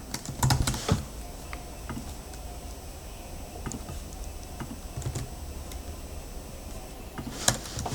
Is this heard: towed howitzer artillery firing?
no